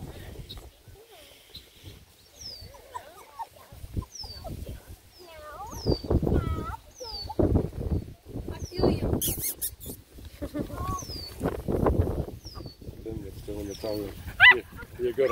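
Redbone Coonhound puppies and a Bluetick Coonhound puppy romp together, whimpering and giving repeated high squeaky yips throughout, close to the microphone, while people talk over them.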